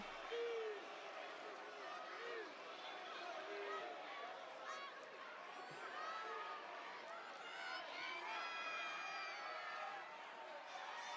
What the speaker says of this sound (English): I can hear the crowd clear as day.